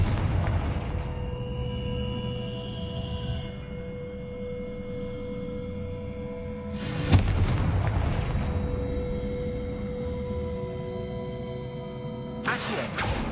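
Fire spell explosions from a Hogwarts Legacy game burst with heavy booms, one at the start, one near the middle and one at the end, each trailing into a long ringing rumble that fades slowly.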